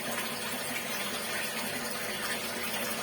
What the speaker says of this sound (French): C'est cette pompe là qui évacue dans ce petit tuyau là.